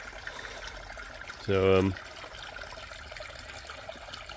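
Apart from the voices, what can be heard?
aquarium skimmer creating bubbles in water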